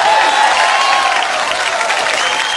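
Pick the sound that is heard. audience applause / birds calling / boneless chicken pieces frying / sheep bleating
audience applause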